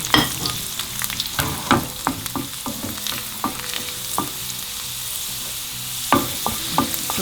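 Garlic and asafoetida (hing) frying in hot ghee as a spoon stirs them, crisp sizzling under repeated scraping and clinking against the pan, close and fairly loud, ending with a few sharper knocks.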